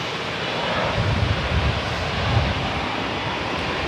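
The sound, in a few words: CRJ 700 jet airliner at Raleigh Durham airport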